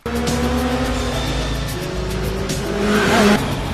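Loud car engines roar continuously with a tire squeal rising near the end, like vehicles racing in a chase.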